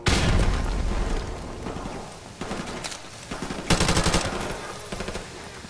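Rapid automatic gunfire rattles through a Modern Warfare Remastered match, dense bursts and booms packed together, loud and continuous with brief dips between volleys.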